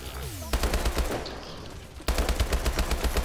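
Sustained automatic gunfire in Call of Duty Advanced Warfare's Exo Zombies mode on the Descent map: two dense, loud bursts of rapid shots separated by a brief lull, with no talking.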